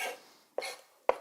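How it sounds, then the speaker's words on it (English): Knife chopping a jalapeno on a cutting board for guacamole, two sharp, close knocks about half a second apart, clear in a quiet kitchen after a fading earlier sound. "stop talking into the camera while I'm chopping because I'm going to cut my thumb off"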